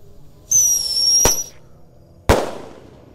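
A small firework launcher with two fuses set off on a Ramadan night. It gives a high whistling hiss, then a sharp crack, and about a second later a second loud bang, close and alone with no voices.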